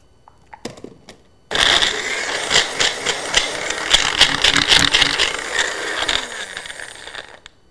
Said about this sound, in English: we're gonna turn back on our blender